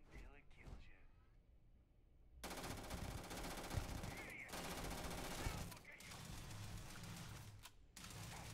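Rapid automatic gunfire rattles in the sci-fi video game Starfield, long loud bursts broken by short pauses, with a voice talking over the quieter opening moments.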